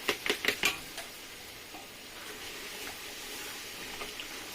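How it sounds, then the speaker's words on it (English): Washed rice pours into a pot for jollof rice, with a few sharp rattling clicks up front, then a soft continuous sizzling rustle that fades a little. "So now I'm going to pour my rice that I washed"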